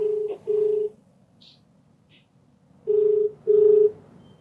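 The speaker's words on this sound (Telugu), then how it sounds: "అయితే నేను కాల్ చేస్తానండి" A telephone call being dialed: a handful of clean electronic tones beeping in separate bursts, two early and two later with a pause between, loud and close with no talk.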